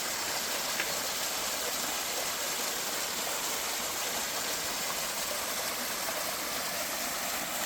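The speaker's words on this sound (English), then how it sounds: "there's a little waterfall right here." A small waterfall on a forest hiking trail in Änggårdsbergen, Gothenburg, Sweden, splashing steadily nearby, a constant broadband rush of falling water with no voices.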